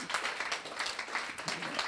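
An evening company event audience applauds together, a dense, fairly soft wash of clapping that runs steadily throughout.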